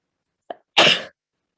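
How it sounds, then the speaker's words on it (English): A single person's sneeze: a short sharp inhale catch followed by a loud, breathy burst lasting a fraction of a second, close up in a quiet room. "I know I'm going to sneeze in just 1 second."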